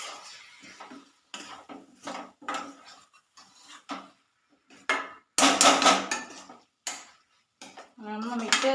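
Fresh squid goes into a pan of cooked-down masala and gets stirred, producing loud, irregular bursts of metal spoon scraping and clanking against the pan, separated by short quiet gaps.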